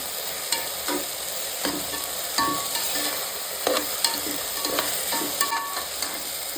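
Mashed tomatoes sautéing in a pan, with a constant bright sizzle and repeated scraping stirs of a spoon against the pan, close and fairly loud, no voices.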